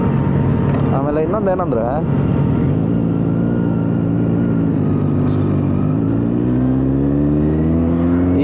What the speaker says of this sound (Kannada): C800 ಓ ಆಕ್ರಾ ಸೂಪರ್ ಆಗಿದೆ.